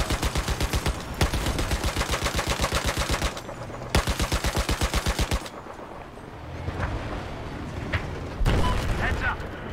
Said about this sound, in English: this gun go pop, pop, pop, pop, pop, pop, pop, pop